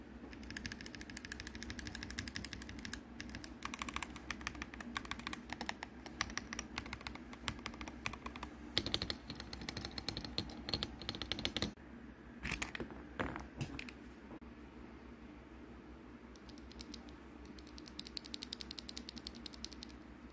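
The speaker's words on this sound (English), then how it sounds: "This is the Higround white flame switch that comes with the Higround keyboard." Rapid typing on a Higround keyboard fitted with white flame switches, a dense continuous run of close clacky keystrokes with a brief pause partway through, no voices.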